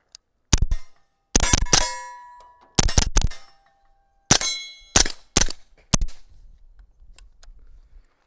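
Shots from a PSA JAKL-9 rifle fired into dirt, seven or eight sharp, loud cracks in uneven clusters with ringing tails, followed by a quieter low rumble.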